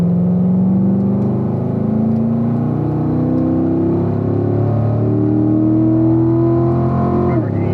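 A race car engine climbs steadily in pitch as it accelerates out of a turn, a continuous loud whine heard close up with a brief dip near the end; no voices.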